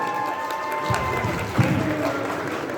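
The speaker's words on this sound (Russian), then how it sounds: "Аплодисменты Валерию." Crowd applause and cheering at a spicy Korean noodle eating contest, moderately loud with a steady hum and some voices mixed in.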